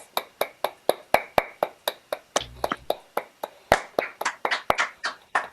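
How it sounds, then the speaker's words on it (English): Participants in an online workshop meeting clap after unmuting, a sparse series of separate, fairly close claps at an uneven pace, heard alone without talk. "Let's give them a big round of applause."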